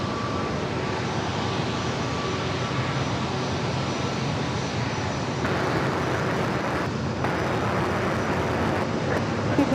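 An airplane takes off at San Diego airport, a loud, steady roar of engines sustained throughout with a broad rumbling wash that stays constant and close.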